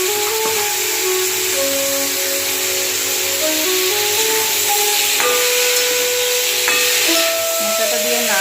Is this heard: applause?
no